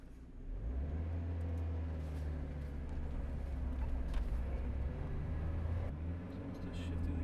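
A cheap auction car with a manual gearbox and an extremely loud exhaust is driven through its gears, a steady close engine rumble and whir that rises and dips with the shifts, no talking heard.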